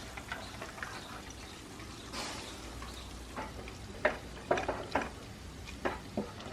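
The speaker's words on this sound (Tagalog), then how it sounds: "Lagay ko na itong pansit para sabay-sabay na silang maluto." Pancit noodles cooking in a pan, a low steady sizzle under scattered sharp clatters of stirring and scraping that grow louder toward the end, with no voices.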